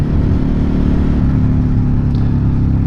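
A Suzuki SV650 motorcycle engine rumbles loud and close while riding on the road, a dense steady low drone with wind roar over it and no break.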